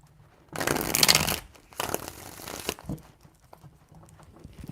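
Tarot cards being shuffled by hand, a dense papery riffling burst of about a second followed by a second, looser stretch of softer card rustling, close and alone.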